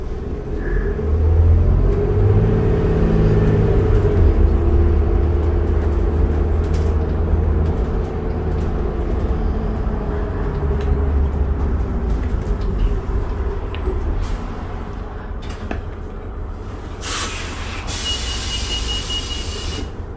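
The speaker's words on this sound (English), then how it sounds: "This bus is really smooth, eh? No jerking from the transmission" A 2008 New Flyer D40LFR diesel city bus rides along its Killarney/17 Ave SW route, with a steady loud low engine rumble and road drone from inside the bus, easing slightly toward the end.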